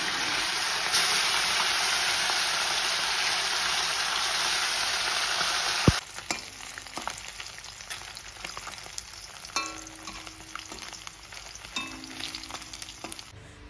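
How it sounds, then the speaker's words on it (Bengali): Lata fish fries in a hot kadai with a loud, dense sizzle at first, then a quieter crackling fry with occasional pops and spatters, no voices. "মাছ ভাজা হয়ে গেছে, আমি পুরো কড়া করে মাছটা ভেজে নিয়েছি।"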